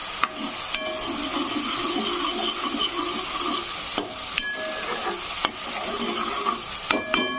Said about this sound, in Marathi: अद्रक, कोथिंबीर, लसूण याची पेस्ट टाकलेली छानपैकी असं फ्राय होऊ द्यायचं आहे।